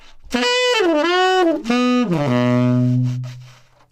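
A tenor saxophone plays bar 11 of a solo: a short bending, wavering phrase that settles into one long sustained low note, close and alone.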